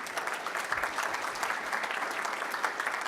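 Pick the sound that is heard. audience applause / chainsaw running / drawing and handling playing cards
audience applause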